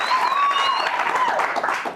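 Audience applauding at a live show, a dense steady wash of clapping from a good-sized crowd that holds for a couple of seconds, with a faint whistle-like tone riding on top.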